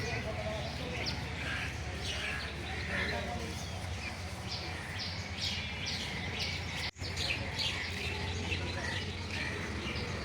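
Small birds chirp and call at a temple in Hathazari, Chittagong, with scattered tweets over a steady ambient background and a low hum.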